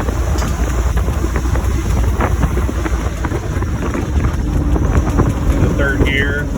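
A topless 1974 International Scout cruises a country back road at about 40, heavy wind buffeting the microphone over a steady low engine and road roar, with a voice faintly underneath.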